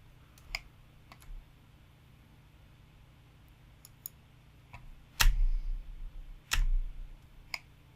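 Computer mouse clicks during AutoCAD work, a scattering of sharp, separate clicks with two louder ones near the end, close and isolated over quiet room hum.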